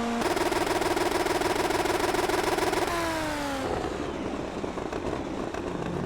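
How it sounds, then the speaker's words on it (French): GTR Turf NC Performance race car engine in a Boostcup Series event, a loud sustained high-pitched drone with shifting harmonics that drops in pitch near the end as the car passes, continuous and close. "La voiture GTR Turf NC Performance."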